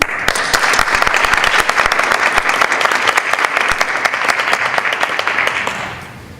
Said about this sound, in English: Can we give a round of applause for Evelyn?